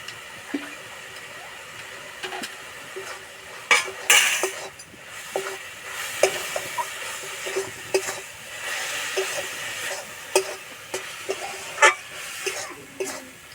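A spoon stirs carrot halwa in a pan, repeated light metallic taps and scrapes at irregular intervals over a quiet background, moderately close.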